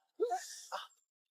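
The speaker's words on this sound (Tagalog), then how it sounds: "Achoo! Bless you." A single loud, close sneeze bursts out in two voiced parts, a sharp intake followed by a breathy release, then silence.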